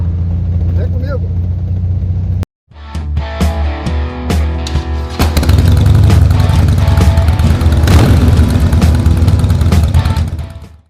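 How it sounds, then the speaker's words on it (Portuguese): A Yamaha Drag Star 650 motorcycle with a customized, reversible exhaust idles and revs with a deep, throaty rumble. The engine cuts briefly, then restarts and builds into a loud, steady roar close to the microphone. "eu consegui dar uma encorpada legal no ronco na moto"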